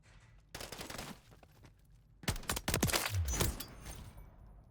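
BP 50 rifle firing in a video game, with rapid bursts of sharp gunshots in two clusters separated by a pause, close and punchy with no talking.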